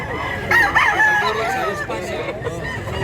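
A rooster crows at a poultry market in Mantalungon, Cebu, a wavering call rising over a noisy crowd with other fowl clucking nearby.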